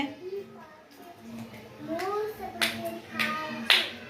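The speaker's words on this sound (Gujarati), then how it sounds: "હવે તાળી પાડીને બોલો" Children in a classroom clap out a spoken sentence, with several sharp hand claps landing among their voices, the last one louder.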